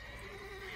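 A short horse whinny in the video game The Witcher 3 rises over a low background hum, brief and moderately faint.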